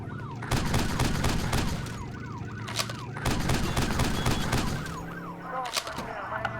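In a video game, wailing police sirens rise and fall repeatedly over engine noise, with bursts of gunfire breaking in at intervals.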